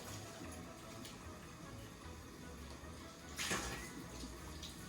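Running tap water rinsing soap off a bowl during dishwashing, a soft continuous splash and trickle that swells briefly louder partway through, faint and close.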